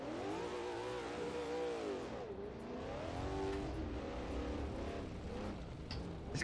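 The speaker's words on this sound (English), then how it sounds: "This car sounds throaty, doesn't it? I'm just gonna let you listen to the car." A rally car engine in the Assetto Corsa racing game revs continuously, its throaty pitch swooping up and down through gear changes, loud and alone for several seconds.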